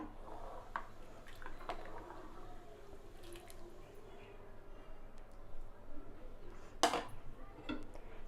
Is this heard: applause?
no